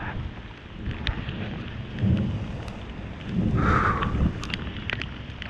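Thunder rumbles close by during a rainstorm at an outdoor air conditioning job, with steady rain throughout and a louder roll of thunder swelling midway.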